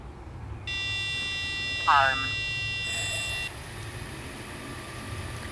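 A ZD850 drone with a Cube Orange controller arming on the ground gives a sustained electronic tonal beep, then a short warbling chirp and a second higher tone, close and clear over a low background hum.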